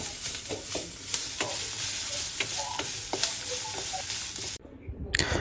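Food for chicken sambar sizzles and crackles steadily in a hot pan as it browns, with occasional stirring scrapes, before the sizzle cuts off near the end.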